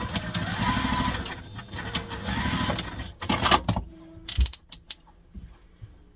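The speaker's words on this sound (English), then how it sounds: "now we're going to go to the sewing machine, and we are just going to stitch these two bits" A sewing machine whirs in steady stitching runs joining fabric pieces for a travel tote bag, then stops and starts in short mechanical bursts with clicks.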